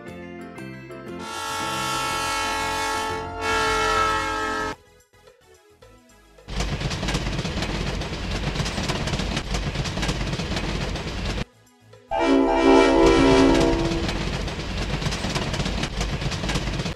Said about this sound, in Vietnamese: Tàu hỏa.